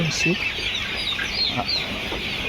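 Two-month-old white Hy-Line layer hens on a poultry farm in Khulna cluck in short, scattered bursts close by, with faint talk in the background.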